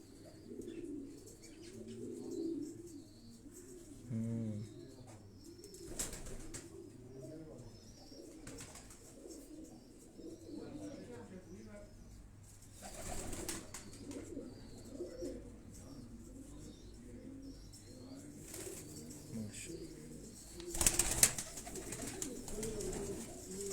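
Fancy pigeons kept in a loft cooing softly and repeatedly throughout, faint and murmuring, with occasional brief louder bursts that may be wing flaps or handling noise.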